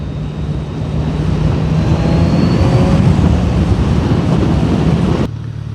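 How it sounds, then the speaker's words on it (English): A Kawasaki Ninja 1000cc motorcycle engine runs at full power with a loud, steady drone and some wind noise. It holds strong throughout and then drops away abruptly near the end. "So let's see in full power what it gives."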